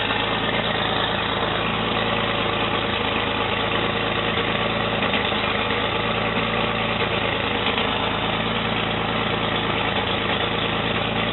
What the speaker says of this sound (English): Running high because it's cold.